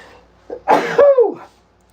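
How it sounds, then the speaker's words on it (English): A single short sneeze, a quick sharp burst of breath rising into a voiced exhale, heard close up against near silence. "I'm going to sneeze."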